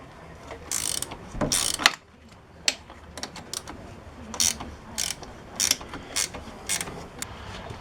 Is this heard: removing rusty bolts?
yes